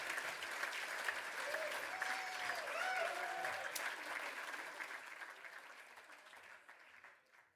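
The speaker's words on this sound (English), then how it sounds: "one more round of applause, guys" Applause from the audience at a hybrid fundraising gala with a live auction, a sustained round of clapping that swells and then fades away near the end, with a brief voice over it.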